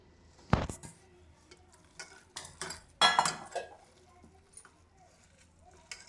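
Masoor lentil paste with salt and turmeric is mixed by hand as small splashes of water go in, ready for fritters. Intermittent squelches, taps and a couple of sharper clinks sound up close against a quiet background.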